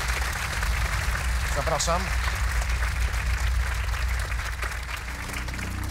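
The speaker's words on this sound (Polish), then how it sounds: "Brawa dla Daniela." On a Polish TV quiz show, The Brain, the studio audience gives a contestant steady, full applause lasting several seconds, then tapers slightly. A voice speaks briefly over the clapping.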